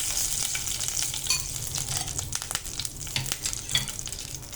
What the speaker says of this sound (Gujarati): લાલ મરચું નાખીશું, સાવ સ્લો ફ્લેમ પર કરવાનો છે વઘાર